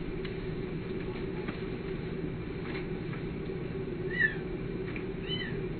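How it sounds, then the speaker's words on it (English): A cat purrs steadily and continuously at close range, with a brief higher chirp or meow-like sound near the end and no voices. "She's purring."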